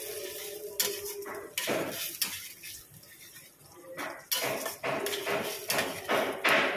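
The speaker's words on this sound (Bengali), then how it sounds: "দেখো এখানে মাংসটা দিয়ে দিয়েছি, দিয়ে মাংসটা দিয়ে কষাচ্ছি" Boiled mutton being stir-fried in a pot, with a metal utensil knocking and scraping against the pot in irregular clanks and bursts, close by, between quieter moments of low sizzle.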